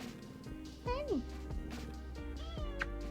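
A pet cat meows a few short, rising calls close by, mixed in with a person's voice talking affectionately over the top.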